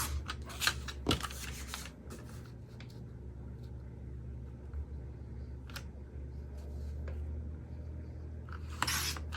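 Scissors cutting through plastic, heard as several short crisp snips and crinkles early on and again near the end, close and fairly quiet over a low steady background hum.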